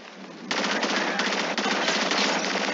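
Automatic gunfire in Call of Duty Infinite Warfare, a dense, continuous rattle that swells up after a half-second of quieter shooting and stays loud and unbroken to the end.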